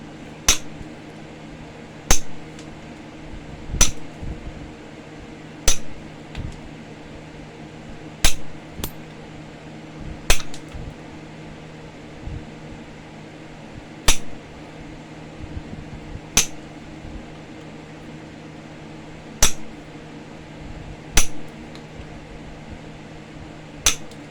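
Raw Flintridge flint being trimmed with a steel, giving a steady series of sharp, bright clicks about every two seconds, close and clear over a low steady hum, with no talk.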